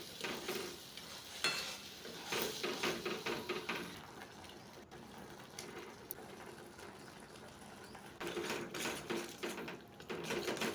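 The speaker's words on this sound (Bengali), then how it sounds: "সাদা তেল দিয়ে মূলোর পেস্টটা একটু নেড়ে নেওয়া হলো নুন হলুদ দিয়ে।" Radish paste with ginger and chilli being stirred in white oil with salt and turmeric for a chana dal dhoka, giving a soft continuous sizzle with scraping spoon strokes in bursts, quieter through the middle and picking up again near the end.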